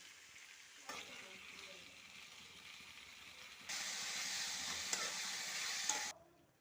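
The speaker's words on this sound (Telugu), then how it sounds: "తర్వాత టమాటా ముక్కలు వేపుకోవాలి" Tomato pieces fry in a pan, a soft sizzle with a scrape early on that jumps to a louder, brighter hiss partway through before cutting off abruptly.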